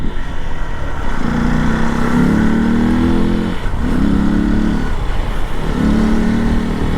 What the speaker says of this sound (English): the bike just wants to keep pulling like throughout the rev band